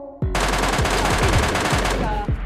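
Video game gunfire, a loud, continuous rapid-fire burst of automatic shots lasting about two seconds, close and dominant.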